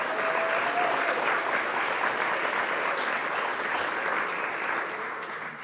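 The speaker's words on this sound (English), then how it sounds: "they deserve another round of applause for risking" Sustained audience applause fills the room at an even, dense level throughout, easing slightly near the end, with no voice over it.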